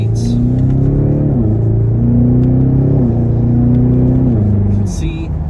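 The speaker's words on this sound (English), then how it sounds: "You can see vehicle drives straight, very smooth, no issues with the drivability at all." A BMW X5M drives smoothly down the road, its engine giving a steady, loud rumble that climbs in stepped pitch as it shifts through gears, with a brief drop near the end.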